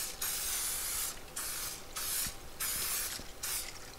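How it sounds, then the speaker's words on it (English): Four short bursts of aerosol spray hiss out in a steady rhythm, close and fairly loud, with quiet gaps between them. "Spray a bundt pan with some non-stick cooking spray."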